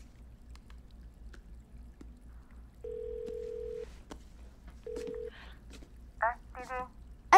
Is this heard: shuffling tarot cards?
no